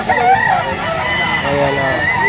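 A gamecock crows loudly and close at a rooster sale, its drawn-out call wavering across the whole moment while other birds and crowd noise fill the background.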